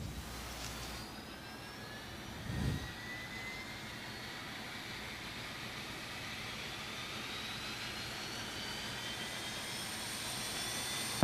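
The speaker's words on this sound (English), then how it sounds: "And we will select the number 2 engine for start." A number 2 jet engine spools up in a flight simulator, a steady low roar with rising whining tones climbing gradually over several seconds, fairly quiet and continuous with a brief thump early on.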